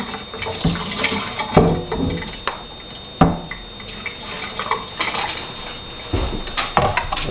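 Excess water poured off a pot of boiling potato soup, a steady rushing splash with irregular clunks and drips, loud and close throughout.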